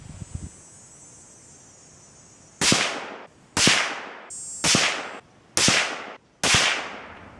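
Five sharp AR-15 rifle shots fired while sighting in at an outdoor range, loud and close, spaced about a second apart, each with a decaying echo tail.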